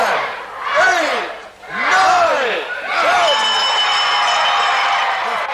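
A wrestling crowd chants a count in unison with the referee, loud rhythmic swells of many voices rising and falling with each number.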